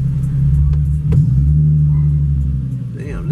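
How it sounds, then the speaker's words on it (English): A loud car engine rumbles deeply and steadily from inside the vehicle as it drives through quiet Chicago streets during the COVID-19 quarantine, with someone talking over the engine noise. "But damn, this car loud as hell."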